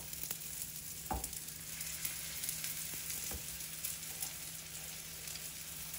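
A crispy potato snack fries in a pan with oil drizzled around its edges, making a soft, even sizzle broken by a couple of light knocks and a faint steady hum.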